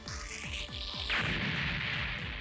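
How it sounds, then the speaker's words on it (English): Long-barrel cannon firing in an SD Gundam G Generation Cross Rays battle, a series of evenly spaced thumping shots followed by a sweeping blast and rolling crash that stays loud to the end. "we have the Ryusego ready to go here. With a long barrel cannon."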